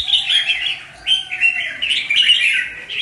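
Red-whiskered bulbul singing while sparring against another bird, a close, loud stream of bright chirps and warbled phrases running continuously with brief pauses.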